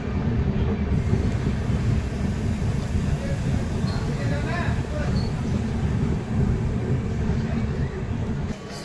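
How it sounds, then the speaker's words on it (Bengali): The 12343 Darjeeling Mail pulls into Bardhaman Junction at night, a continuous low rumble of the rolling train with steady wheel noise and some voices in the background. "শিয়ালদা থেকে ছেড়ে 101 কিলোমিটার ডিস্টেন্স কভার করে ট্রেন এসে পৌঁছালো বর্ধমান জাংশন"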